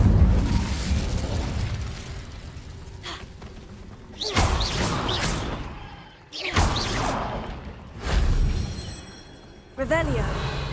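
Incendio fire spell bursting repeatedly in Hogwarts Legacy, several loud whooshing blasts with crackling, booming tails separated by brief quieter gaps, voices heard between the bursts.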